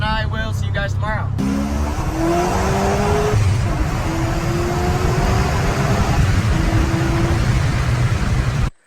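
Supercharged C5 Corvette engine revving hard, loud and close, with a rising whine over a dense roar that holds for several seconds before cutting off abruptly, after a brief voice at the start.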